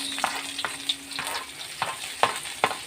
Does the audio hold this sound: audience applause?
no